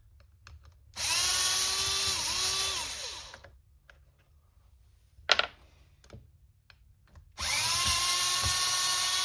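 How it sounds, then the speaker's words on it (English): A battery-powered drill drilling out a fastener during transmission maintenance on a Kraken Vesla, two loud whining bursts with pitch dipping under load, separated by a pause with a brief clatter, close up. "I had to drill that fastener out."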